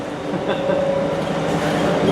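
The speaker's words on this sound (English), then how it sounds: "here I am on the little tram that goes around the Houston airport" Small airport tram rolling around Houston airport at night, a steady loud rail rumble with a faint tonal whine inside the car, continuous and close.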